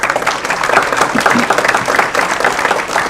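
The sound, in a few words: audience applause at school board meeting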